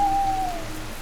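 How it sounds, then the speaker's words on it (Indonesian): Light rain begins falling outdoors at night near a large government building, a steady soft hiss of drops throughout, with a faint tone fading early on; no voices. "Hujan pelan mulai turun membekap bahunya."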